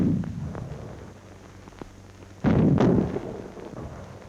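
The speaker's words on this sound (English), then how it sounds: "the young gunners lay and fire the guns under the watchful eye of an instructor" An artillery gun fired by young gunners in training fires once: a single loud, close blast with a brief rumbling tail, set among quieter outdoor noise and faint earlier thuds.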